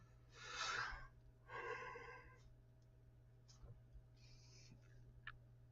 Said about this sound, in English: I'm sorry, I'm yawning now